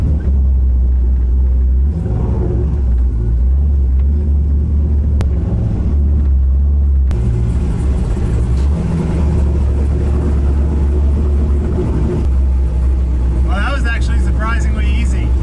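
A truck pulls a trailer around with a steady low engine rumble throughout, rising briefly as it accelerates, close and continuous; people talk over it.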